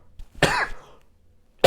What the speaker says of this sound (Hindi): थोड़ी सी खांसी की समस्या है